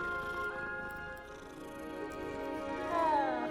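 A cat in Hogwarts Legacy purrs softly as it is petted, a steady low rumbling purr lasting a few seconds, swelling slightly louder near the end.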